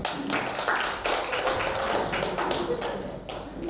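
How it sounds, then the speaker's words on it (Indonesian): An audience at a Christian sermon claps in a brief, fairly soft burst of scattered applause, with the claps continuing unevenly for a few seconds and no voices on top. "Oke, tepuk tangan Bapak"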